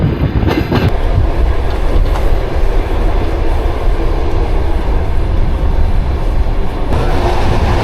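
Loud, steady rumble of a train in Georgia rolling along the rails toward Tbilisi, with a constant roar and faint rhythmic clatter of wheels throughout.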